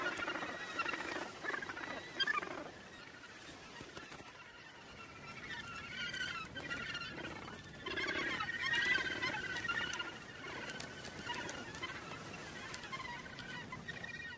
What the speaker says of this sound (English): Lawrence Rocks is the largest gannet colony in Australia.